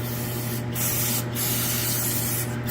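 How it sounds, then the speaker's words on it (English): Penetrating oil hisses steadily from an aerosol can onto a fitting near the gas tank of a 2005 Chrysler Pacifica, a close, continuous spray broken by a few brief pauses over a low background hum. "I'm going to spray it down with some penetrating oil"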